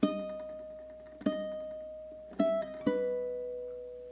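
A ukulele plays the closing bars of a love song chorus, four gentle strummed chords ringing out and decaying, played alone and fairly soft.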